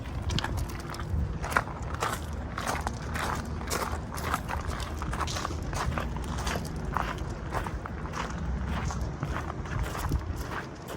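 Footsteps walk around a school bus during a passenger-vehicle pre-trip inspection, a steady run of close, scuffing steps over constant outdoor background noise.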